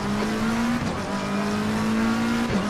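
Race car at full throttle during an international racing series round, a loud steady high-revving engine drone holding a constant pitch, with a brief tire-scrub flutter near the start and again at the end.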